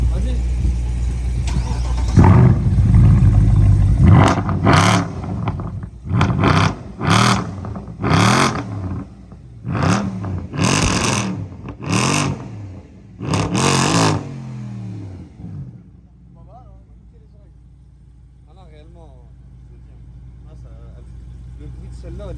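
A BMW M3 E90 or Mercedes C63 AMG sports car engine starts with a deep rumble, then gets about eight sharp, loud revs in quick succession before settling to a low idle, with people talking nearby.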